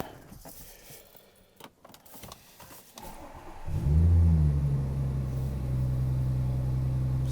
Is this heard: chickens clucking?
no